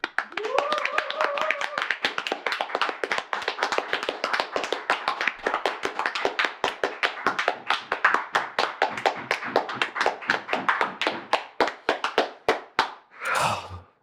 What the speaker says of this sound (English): Great clapping. Great clapping.